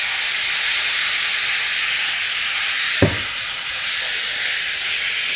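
Pig trotter stuffing with oyster sauce and soy sauce sautés in a pan with a constant close sizzle and hiss, broken by one brief utensil knock.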